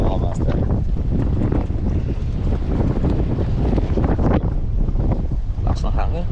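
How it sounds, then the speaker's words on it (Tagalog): Strong wind buffets the microphone in a continuous low roar, with voices faintly talking underneath throughout. "Lakas ng hangin."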